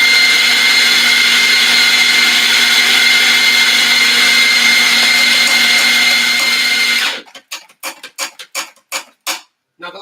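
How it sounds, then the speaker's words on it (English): An electric coffee grinder whirs loudly and steadily while grinding beans for espresso, then stops, followed by a series of rhythmic knocks and taps close by. "Now let us go and grind more coffee"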